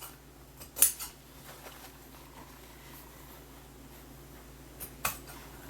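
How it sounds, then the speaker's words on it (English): Scissors cutting waterproof canvas, heard as two faint, sharp snips about four seconds apart against a quiet room background, close by with no talk. "Okay, let me just cut this out."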